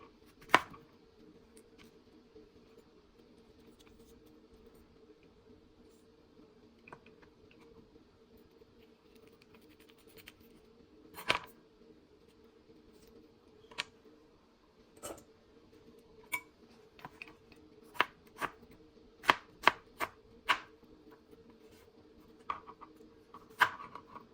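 A knife cuts mango into long strips on a board: a sparse series of sharp, close taps that grow quicker toward the end, over a low steady hum, with no talking.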